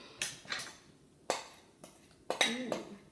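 A metal spoon knocks and scrapes against a pan while stirring biscuit mixture. Several sharp clinks come in uneven bursts, close and fairly loud, with quiet gaps between them.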